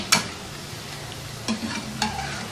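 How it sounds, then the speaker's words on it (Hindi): Pakoras deep-frying in oil over medium heat for Punjabi-style kadhi pakora, a steady close sizzle broken by a few brief scraping stirs, with no talking. "मीडियम हीट के ऊपर हम पकौड़े फ्राई करेंगे ताकि ये जलें भी ना और अंदर से भी अच्छी तरह से कुक हो जाएं"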